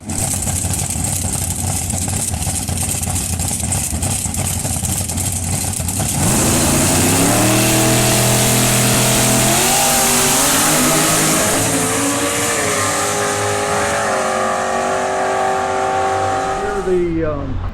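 A homemade, naturally aspirated drag race car that runs low nines idles with a loud, lumpy rumble, then roars into repeated rising revs close by, sustained and very loud throughout.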